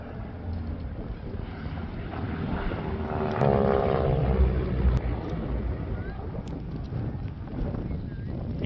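A North American AT-6 Harvard flies at an air show, its propeller engine droning steadily, rising a little midway and staying at a distant, even level with no clear voices.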